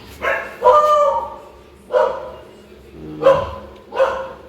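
A dog barks five times in short, separated bursts, fairly close and clear, among stray animals.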